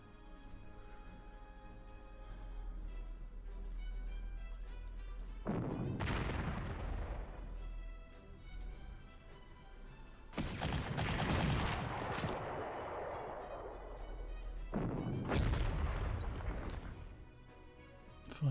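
Artillery fires in the Panzer Corps strategy game, three separate deep booming blasts with crackling, rolling decays, heard over a quiet low background hum.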